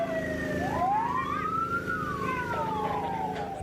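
Fire truck sirens rising and falling loudly together near a burning wood and furniture warehouse in Pasuruan, a steady wail sweeping up and over an idling engine rumble, with no talk.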